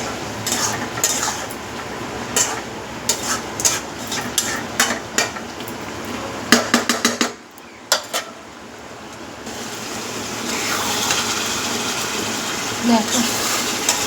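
Meat is stir-fried in a pan with salt, turmeric and green chilli: a spoon scrapes and knocks against the pan in quick irregular strokes, then a steady sizzle of frying continues underneath.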